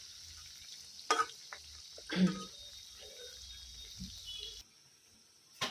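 Suji pitha, a semolina cake, fries in oil with a low crackling sizzle while being stirred, with occasional utensil clinks and scrapes, then the sizzle drops away near the end.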